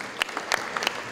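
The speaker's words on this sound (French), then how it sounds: "Voilà, on les applaudit," At a rugby league tribute gathering in a hall, a few sharp, separate claps ring out against a quiet room, close and brief, spaced unevenly over about a second.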